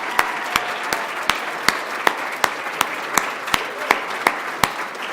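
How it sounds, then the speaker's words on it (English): An audience claps steadily at a university law school evening event, a sustained wash of applause filling the room, with no speech over it. "Please have one more round of applause for Gina McCarthy."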